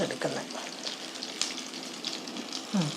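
Quiet crackling sizzle of chicken pakoda deep-frying in oil, with a few faint clinks and a brief voice near the end.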